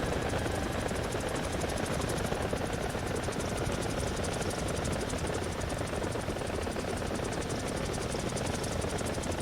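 A helicopter engine and rotor in the video game War Thunder give a dense, unbroken drone that stays steady and fairly loud throughout, with no voices over it.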